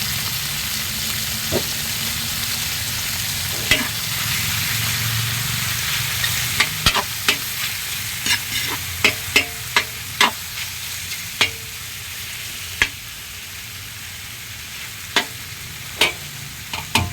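Pen shell (sarad) sizzles steadily in a hot pan, with scattered sharp pops and crackles and a few spoon or utensil clicks against the pan, up close with no talking.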